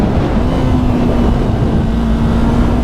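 A Yamaha YZF-R3 motorcycle drones steadily while being ridden, its engine holding a constant, loud, close hum with rushing wind noise and no break or change in pitch.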